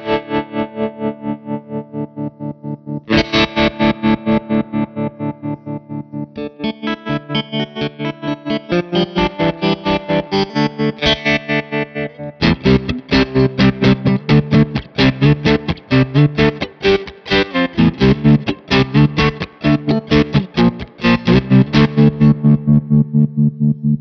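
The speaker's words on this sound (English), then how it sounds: "which is going to give us a nice square wave chop." Electric guitar through a Gecko Pedals O-Face modulating overdrive, its tone control at minimum giving a choppy square-wave pulse; distorted chords and notes throb in a steady rhythmic tremolo, loud and alone.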